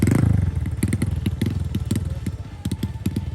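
A motorcycle engine catches and runs close by, settling into an uneven, rapidly pulsing idle with sharp periodic thumps and a steady low rumble, with no voices.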